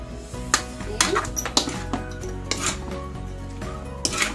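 Adobong sitaw (string beans) being stirred in a cooking pot over the flame, with several sharp metal scrapes and clinks of the utensil against the pot over a low background hum.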